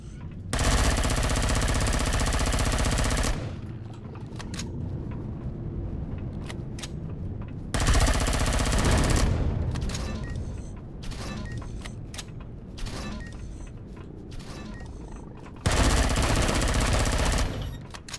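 Bursts of rapid automatic gunfire from the video game Empyrion Galactic Survival come in three long loud volleys, with sparser single shots and mechanical clatter between them.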